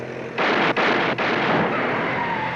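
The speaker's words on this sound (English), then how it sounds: "Shoot out the tires." Gunfire aimed at a vehicle's tires: a loud burst of rapid shots, several close cracks in quick succession with brief gaps, then reverberation fading out.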